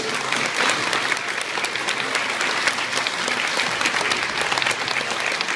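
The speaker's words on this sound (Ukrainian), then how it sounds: "Аплодисменти Альона Гордічук." Audience applause after a motivational speaker's talk on changing one's life, a steady, dense clapping that sustains evenly throughout without voices.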